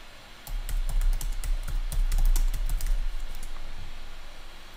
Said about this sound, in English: we type Visual Studio Code.